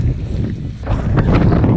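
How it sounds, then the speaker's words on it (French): Gusty wind buffets the microphone outdoors during a long coastal trail run on the Côte d'Opale, a loud continuous rumble that surges stronger in the second half, with no voices. "Trop de vent."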